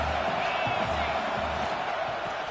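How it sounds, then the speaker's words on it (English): Stadium crowd noise at a football game, a steady loud roar of cheering and whooping with no break, the fans sustaining the din before a red zone play. "This crowd knows when to bring it."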